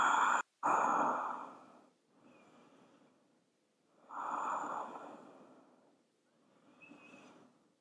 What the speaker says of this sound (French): Pour 2 belles respirations.